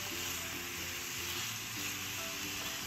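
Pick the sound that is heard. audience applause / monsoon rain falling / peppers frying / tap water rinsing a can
peppers frying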